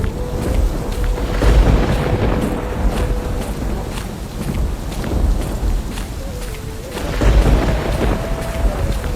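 A night thunderstorm with a torrential downpour: steady heavy rain beneath deep, rolling thunder that swells twice, alongside a held musical tone.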